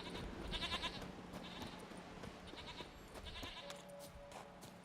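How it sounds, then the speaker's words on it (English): Goats in The Witcher 3 bleat in several short, fairly faint bursts over soft ambient game background, with no talking. "Goats are here."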